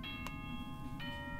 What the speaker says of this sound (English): The universal Danganronpa bell.